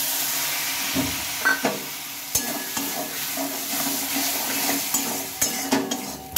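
Potato and egg curry sizzles in a pan while a spatula stirs it, giving a soft frying hiss broken by repeated sharp scrapes and clinks against the metal, close and without talk.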